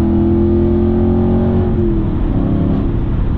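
A sports car's engine revs hard and then eases off, its exhaust note loud and close, with the tone shifting as the revs change and no talk over it.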